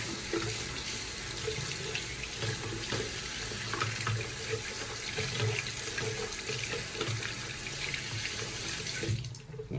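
A toilet part is rinsed under a running tap, water streaming steadily and fairly loud for nearly the whole stretch before cutting off abruptly near the end, with no talking.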